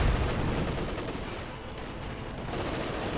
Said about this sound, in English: the artillery strike going in here on the German position around the Panzer IV